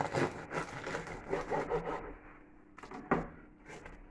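Knife sawing through a sandwich loaf of bread: close, rough back-and-forth rasping strokes for about two seconds, then quieter scrapes and a sharp knock against a board.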